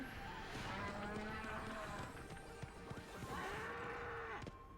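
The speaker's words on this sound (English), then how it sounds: "It's a cow!" A cow mooing in the video game Okami, several drawn-out, wavering lowing calls over a dense game soundscape, loud and close with no talk.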